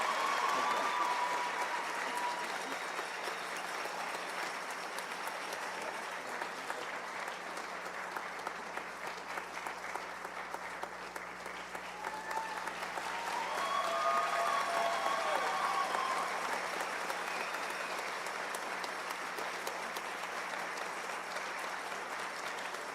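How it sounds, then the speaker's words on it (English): A graduation audience at Vancouver iTech Preparatory applauds as students cross the stage, dense sustained clapping from a large crowd in a hall, swelling slightly midway and continuing throughout. "Let's keep it clapping for them as they walk across."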